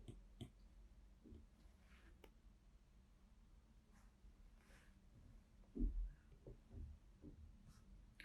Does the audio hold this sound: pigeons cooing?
no